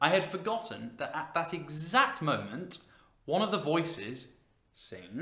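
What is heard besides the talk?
None of the usual background noises is heard.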